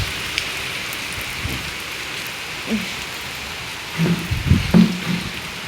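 Heavy monsoon rain pours outside a house, a dense steady hiss of drops with a few heavier splashes and patters close by toward the end.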